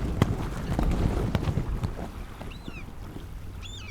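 A sailing boat on the water in a children's audio drama, with wind rushing and gusting over the microphone, a few low thumps and creaks, and faint bird cries.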